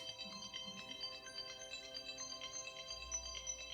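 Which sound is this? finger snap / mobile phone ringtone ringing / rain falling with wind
mobile phone ringtone ringing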